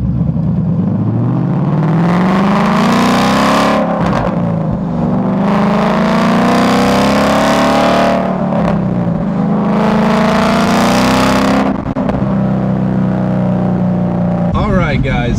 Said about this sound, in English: hopefully get some good exhaust noise